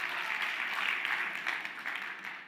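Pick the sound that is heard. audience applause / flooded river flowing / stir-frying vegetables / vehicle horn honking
audience applause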